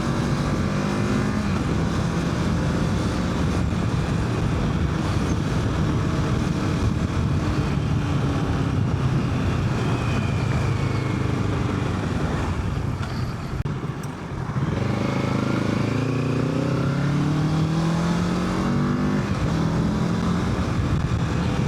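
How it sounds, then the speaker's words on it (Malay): A Kawasaki Z650 ABS motorcycle engine roars steadily at close range, revving up and down with gear changes and strong wind rush throughout. "Sebab motor ni best, pick up dia kuat."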